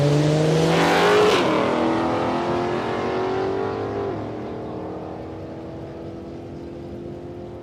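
A drag racing wagon at Palmyra Raceway roars past loud and close, its engine note sweeping down as it passes, then fading steadily into the distance with no voices.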